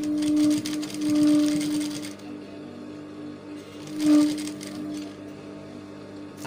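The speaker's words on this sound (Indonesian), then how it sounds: "Kemudian kita baru jahit ya sekarang." A sewing machine runs in two bursts, stitching a fabric back lining, with a steady motor hum and rapid needle chatter, pausing in between and then resuming briefly.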